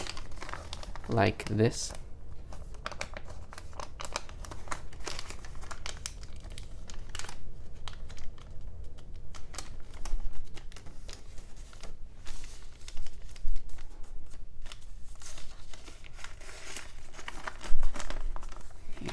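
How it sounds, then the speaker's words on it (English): Paper crinkles and creases as an origami frog is folded by hand, soft crumpling and rustling runs throughout with a few sharper crackles, close up, under a person talking. "Then we'll fold this to the right as far as it'll go"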